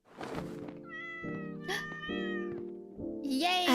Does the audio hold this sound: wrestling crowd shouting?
no